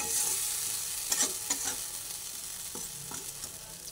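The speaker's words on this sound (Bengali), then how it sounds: "এবার এটা কড়াইয়ের মধ্যে দিয়ে অল্প করে ভেজে নিচ্ছি।" A paste of ground cashew and poppy seed sizzles steadily in a hot kadai, with a few soft stirring scrapes and spatters over the constant hiss.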